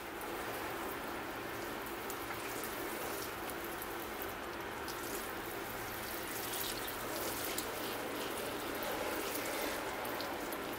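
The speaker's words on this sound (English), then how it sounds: "here I go with the water, coming from above" Water poured from above onto a mixed northern bog forest bonsai landscape, a steady, even hiss of spray and trickling droplets that runs unbroken and fairly soft throughout.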